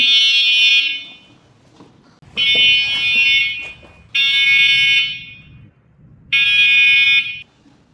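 A Teverun electric scooter's anti-theft alarm blares loudly in four long bursts of a shrill, siren-like tone, separated by short pauses with faint background noise.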